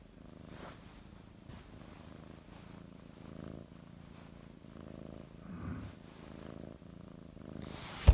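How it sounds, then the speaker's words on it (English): A cat purrs steadily and softly up close for several seconds, a low rhythmic rumble with no talking. "Can you hear her purring?"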